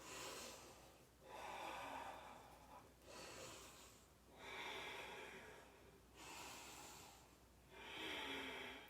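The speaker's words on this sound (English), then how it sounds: "Let's take 2 more big breaths." Slow, deep breaths during a vinyasa yoga session, about four long inhale-exhale cycles with audible airy rushes through the nose, close and quiet with no speech.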